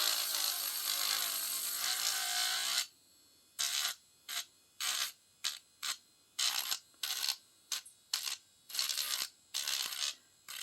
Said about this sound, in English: I'm going to see if I can just Dremel this edge off here.